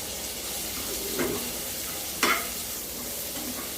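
Steady sizzling of curry leaves and a little coriander sautéing in a hot pan, with a couple of soft scraping stirs, close and continuous, no voices.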